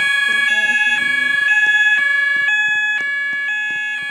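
A school fire alarm being tested sounds loud and close, a repeating electronic tone pattern pulsing about twice a second, with a brief burst of background chatter early on.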